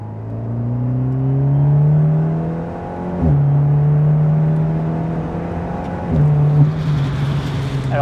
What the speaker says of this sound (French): Le son est beaucoup plus rauque, ça c'est grâce au silencieux sur mesure qu'on voit à l'arrière.